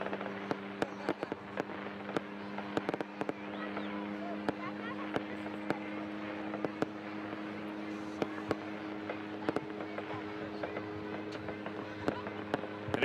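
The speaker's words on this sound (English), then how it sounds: "4 jumpers up there doing a little fireworks display" Pyrotechnic sparklers carried by four skydivers descending over a balloon fiesta field crackle and pop in sharp scattered bursts over a steady engine drone, with talk mixed in.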